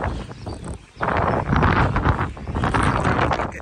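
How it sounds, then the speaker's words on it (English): Strong gusts roar and buffet across open farmland on Terceira Island in the Azores, a loud, steady rush of wind hitting the microphone with no talking. "the wind is pretty gnarly"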